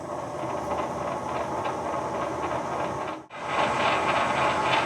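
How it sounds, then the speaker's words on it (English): Metal lathe running with a steady, loud, close mechanical whir and hum that cuts out for a moment, then starts again as the machine is reversed. "reverse the lathe"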